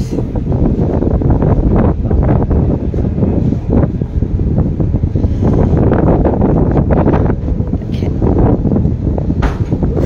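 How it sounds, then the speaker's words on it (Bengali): Strong wind buffets the microphone in a continuous, loud roar with gusty fluctuations throughout. "কি বাতাস!"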